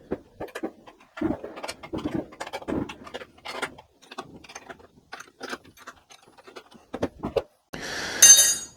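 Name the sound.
adjusting rear axle chain slack on Harley Pan America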